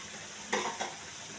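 Food sautéing in hot oil in a pan while a fish curry meal is being cooked: a steady soft sizzle with a couple of quick stirring scrapes near the middle, close and with no talking.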